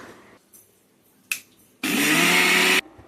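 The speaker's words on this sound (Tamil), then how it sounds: "ஒரு சுகரை மிக்ஸியில போட்டுக்கலாம். நம்ம இதை கிரைண்ட் பண்ணிக்கலாம்." A mixer grinder grinding sugar roars loudly for about a second, preceded by a faint click and a short clatter, then stops abruptly.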